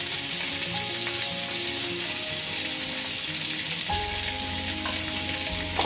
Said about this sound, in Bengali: মিডিয়াম ফ্লেমে রেখে ফ্রাই করে নিচ্ছি।